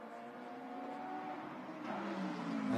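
A 2-litre turbo GT race car, the #62 car, drives at a Malaysian circuit in a GT Masters Asia race, its engine note a steady drone that swells louder toward the end as it nears.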